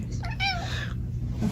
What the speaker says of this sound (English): Why is there a cat here?